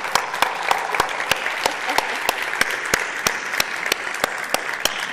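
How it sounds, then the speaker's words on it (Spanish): Audience applause closing a talk on Russian and Chinese hacking at a tech conference, with steady dense clapping sustained throughout and a few sharper individual claps standing out above the crowd. "La verdad no podemos cerrar mejor esta charla con esto, con un aplauso. Aplauso para Putin."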